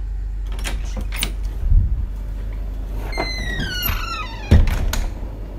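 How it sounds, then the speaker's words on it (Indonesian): A door is opened with a couple of low thuds and a squeaky creaking hinge, plus a click of the latch, close by. "Suara pintu yang dibuka."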